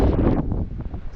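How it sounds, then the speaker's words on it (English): Strong wind blows across a microphone on a beach by a fishing pass, a loud, dense rumbling buffet that eases slightly partway through the short stretch. "Pretty windy, pretty breezy."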